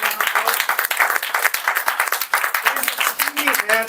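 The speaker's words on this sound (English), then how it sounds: "Can we have a big round of applause?" Brisk, steady clapping from the audience at a Toastmasters club meeting, greeting a distinguished Toastmaster. It is fairly loud and close throughout, with a voice surfacing faintly near the end.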